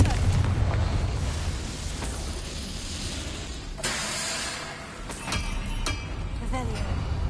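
Confringo blasting spell explosion in Hogwarts Legacy, a sharp burst followed by crackling debris and hissing, with further short impacts and a voice speaking over the game sounds.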